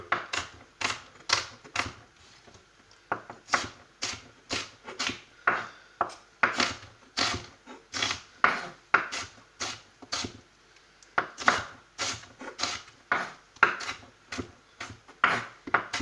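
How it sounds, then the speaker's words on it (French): Onions being chopped into small cubes with a knife on a board, a close series of crisp, evenly spaced knocks, about one per half second, with a brief pause near the middle, no speech. "on va les découper en petits morceaux. J'adore les découper comme ça. J'adore les découper en petits cubes."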